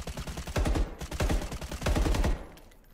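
Unsuppressed gunfire in the survival shooter The Day Before, several rapid bursts of loud automatic shots in quick succession with short pauses between them, fading at the end.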